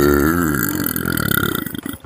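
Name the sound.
queso burp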